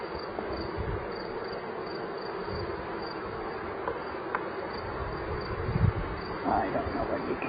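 Bees buzzing at an open beehive, a dense continuous droning hum close by with individual bees passing near, steady and moderately loud throughout.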